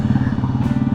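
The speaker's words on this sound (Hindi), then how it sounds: "पहली बार मैं बाइक चला रहा हूँ आफ्टर कोरोना" A motorcycle rides through city streets in Bangalore from BTM Layout to Marathalli, its engine giving a loud, close, steady pulsing drone throughout.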